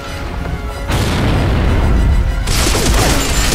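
A grenade goes off during a Corpser boss fight in Gears of War, a loud booming blast followed by rumbling debris and a second burst of crashing noise.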